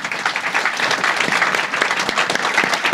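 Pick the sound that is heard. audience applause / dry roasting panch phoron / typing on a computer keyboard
audience applause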